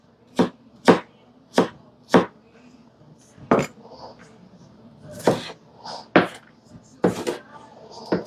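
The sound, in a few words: chopping food on a cutting board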